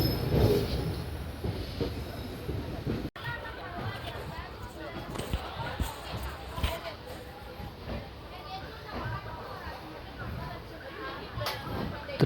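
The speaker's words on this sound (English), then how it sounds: "Train has arrived to Tiruchirappalli at 8 p.m." Passenger train pulling into Tiruchirappalli junction at night, wheels rumbling and screeching over the rails amid a busy station din, with people talking nearby throughout.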